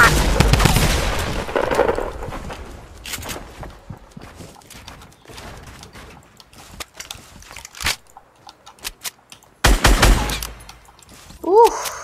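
Gunfire in the video game Fortnite: rapid bursts and scattered single shots, loud at the start, then sporadic sharp cracks against quieter game sounds, with a louder cluster near the end.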